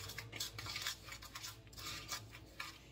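A utensil stirs fish with Maggi fish seasoning in a bowl, giving quick, close scraping and clinking strokes in a rapid, uneven rhythm with no talking.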